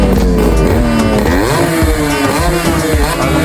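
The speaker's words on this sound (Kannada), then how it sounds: "ಆ 2 ಸ್ಟ್ರೋಕ್ ಸೌಂಡು," A Yamaha RX two-stroke motorcycle engine runs loud and close in a continuous buzzing drone, its pitch wavering and dipping slightly as the throttle shifts.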